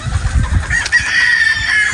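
Boston Black gamefowl roosters cluck and crow steadily in the background, a dense, continuous farmyard chorus with no speech over it.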